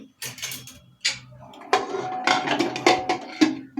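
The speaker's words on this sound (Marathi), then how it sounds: "आता आपण कुकरचं झाकण लावायचं आहे" A pressure cooker lid is fitted onto a pot of Puneri misal being cooked, giving a close run of sharp metallic clanks and clatters over a few seconds, with no speech.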